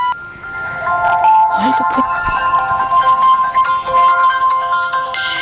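A phone ringtone plays loudly in a comedy scene, a bright looping electronic melody of repeated tones that rings continuously, with voices briefly mixed in.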